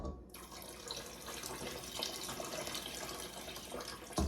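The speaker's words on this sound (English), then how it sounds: "I think I'll add some water now, just to give me a little more volume." Water runs steadily into a soup pot while homemade chicken noodle soup is being made, a continuous splashing pour that starts abruptly and stays close and even throughout.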